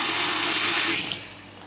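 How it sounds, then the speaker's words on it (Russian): Tap water runs steadily in a flat under inspection with drilled walls and leak stains near the bath, a loud close hiss that drops off sharply after about a second as the flow is cut. "Вода идет."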